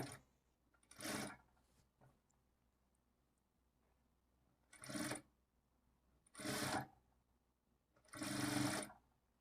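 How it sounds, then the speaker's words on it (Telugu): A sewing machine stitches thread piping onto cloth in four short, fairly loud bursts spaced by quiet pauses, each run of stitching lasting about a second, with no talking. "ఈ రౌండ్ తిరిగే చోట ఇలా నిదానంగా స్టిచ్ చేసుకోవాలి"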